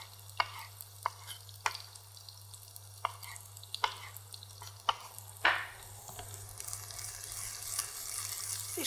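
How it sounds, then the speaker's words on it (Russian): Garlic and other cut pieces fry in a pan with a soft steady sizzle, punctuated by regular sharp taps of a utensil and a stir that grows busier toward the end, no voices. "Видишь, какая сразу очень быстро все у нас здесь золотится, главное не давать гореть, особенно чесноку"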